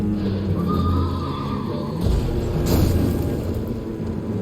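A horse in Elden Ring whinnies loudly with a rising, wavering neigh, followed by heavy hoofbeats and a burst of game sound effects over a steady background.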